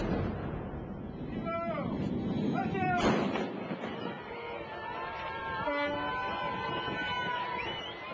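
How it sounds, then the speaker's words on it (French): Ship's and arsenal cannon fire a salute at a naval send-off for the Jeanne d'Arc, a loud boom near three seconds amid a crowded, noisy quayside ambience with voices and whistle-like tones. "des canons du bord et de l'arsenal."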